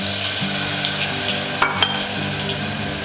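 Ginger garlic paste and cloves fry in oil in a pan, giving a steady, loud sizzle throughout, with a couple of brief scraping or stirring knocks near the middle.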